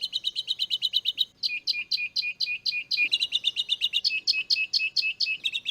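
Galapagos finches sing in the field, a close, clear run of rapid, evenly repeated chirping notes that changes pattern partway through and continues without pause, with no voices.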